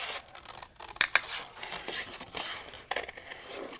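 Scissors snip around a paper crafting design in a series of close, crisp cuts with a couple of sharp louder snips, joined by light paper rustling.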